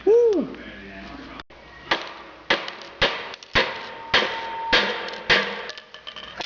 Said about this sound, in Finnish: Ja haemme vasaran. Lätkästään ne tuohon.